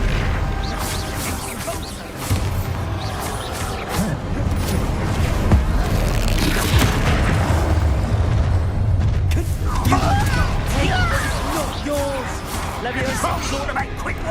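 Bombarda blasting spells fired in a Harry Potter game fight, a run of booming impacts and crashes layered with clattering debris and other spell effects, with a player talking over the action.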